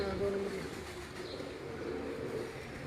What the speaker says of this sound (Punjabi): ਇਹ ਛੱਟੇ ਵਾਲਾ ਕਬੂਤਰ ਹੈ